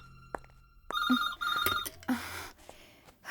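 A telephone bell rings in a short burst of bright, repeating electronic trills, loud and close, with faint background noise between the rings.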